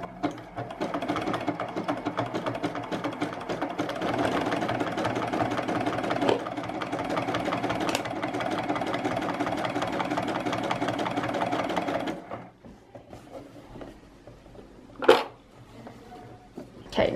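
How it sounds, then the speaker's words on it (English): A sewing machine stitches coiled fabric rope into a bowl, running in a fast, even mechanical chatter for about twelve seconds before stopping, followed by quieter handling noises and one sharp knock. "So now I'm just gonna go ahead and continue sewing just like I have been."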